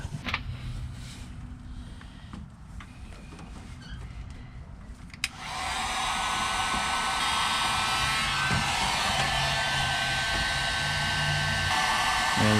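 A torch or heat gun heats solder on a wire splice during a truck fog light install, a steady loud rushing hiss that starts abruptly after a quieter stretch and runs on without pause.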